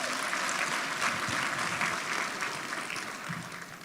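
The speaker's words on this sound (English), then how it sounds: "Can we give them all a round of applause?" Sustained audience applause at a gala dinner awards ceremony honouring artisans and finalists, a dense roomful of clapping that fades slightly toward the end.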